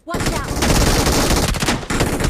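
Rapid bursts of video game gunfire crackle loudly and continuously, a dense stream of shots with a brief pause near the end.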